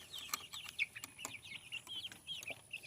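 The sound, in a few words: baby chickens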